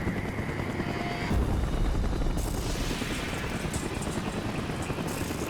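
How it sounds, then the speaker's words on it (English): A Russian military helicopter in the Call of Duty: Black Ops video game, a loud steady rotor roar that swells midway amid a dense wash of combat noise, with no voices. "A Russian helicopter rolls our APC and then drops a gas canisters right on top of us"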